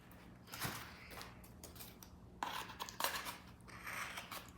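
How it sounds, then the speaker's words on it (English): Scissors snipping through yarn at a family craft table, a few short quiet cuts with soft rustling between them, close and without talk. "You're gonna take your scissors right to the very bottom"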